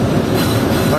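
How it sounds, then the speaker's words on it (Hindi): The Marvi Passenger train rolls into a station in the Thar Desert, producing a loud, steady rumble of wheels and carriages, with no clear talk over it. "ये पहले स्टेशन के ऊपर ट्रेन आके रुक गई है"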